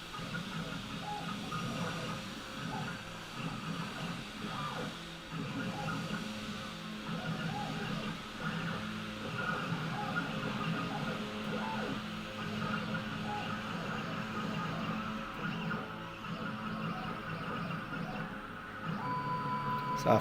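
A kennel tag engraving machine working on a name tag, a steady mechanical whirring hum with faint clicks and whines running at a moderate, even level.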